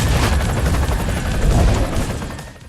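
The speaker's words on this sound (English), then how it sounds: "There's a very large volume of explosions going on right now." In the racing video game Split/Second, a continuous barrage of heavy explosions and booms rumbles loudly, dense and overlapping, before easing off slightly at the end.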